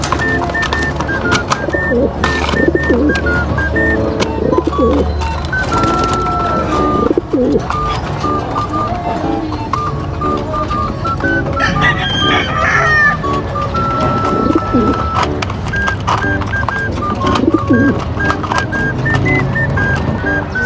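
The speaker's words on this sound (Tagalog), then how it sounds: "So yun mga kalapatids, dahil tapos na sila kumain." Pigeons after feeding, cooing amid other birds: a loud, constant backyard chorus of low coos and clucks with a rooster-like crow and scattered chirps throughout.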